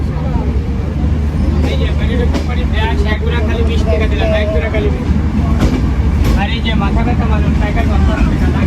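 Kapotaksha Express pulling out of Mirpur station on the Ishwardi to Khulna run, with a steady low rumble and rhythmic rail clatter inside the carriage, people talking nearby over the continuous noise.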